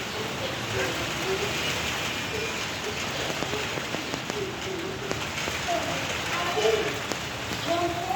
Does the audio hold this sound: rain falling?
yes